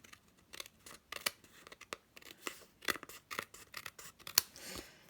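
Scissors trim layered card pieces for a handmade card, making quiet, close snips and rasping cuts that come in irregular quick bursts with short pauses between them.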